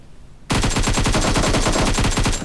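A sudden, loud burst of rapid automatic gunfire in the video game PUBG Mobile starts after a moment of quiet. The shots fire in a fast, even rhythm that runs nearly to the end.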